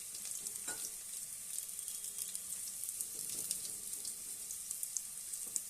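Onions and carrots frying in oil for sweet corn pulao, a steady soft sizzle with scattered small crackles and pops, heard alone without voices.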